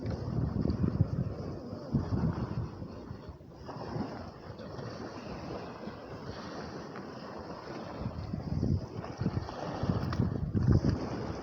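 Strong wind buffeting the microphone at a lakeshore with big waves washing in, a continuous loud rumbling roar that surges and eases, with no speech.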